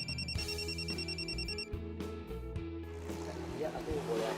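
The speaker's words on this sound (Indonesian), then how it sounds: "aku boleh angkat telepon bentar" A telephone rings with a steady repeating electronic trill, moderately loud and continuous over a few seconds, with a low tonal hum underneath.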